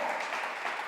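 Applause from a church congregation, a dense steady wash of clapping filling the whole second at moderate level, with no distinct voices over it.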